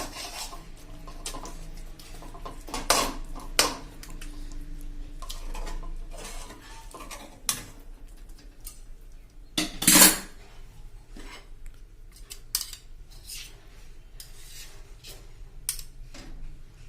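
Wheat flour khichu is stirred with oil in a pot, giving close metallic scrapes and clinks of a spoon against the vessel in irregular bursts, with one sharp knock partway through and no speech.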